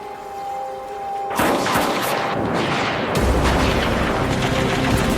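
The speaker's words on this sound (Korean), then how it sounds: "기다리던 사격 명령과 함께 시작된 치열한 교전" Battle gunfire from the Korean War defense of the Han River bursts in suddenly after a quiet low hum and becomes a dense, continuous roar of shots and booms, loud and close.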